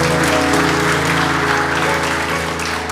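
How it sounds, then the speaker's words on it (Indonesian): A church congregation gives the volunteers a loud, sustained round of applause, dense clapping that carries on steadily from start to end. "Kasih tepuk tangan untuk mereka."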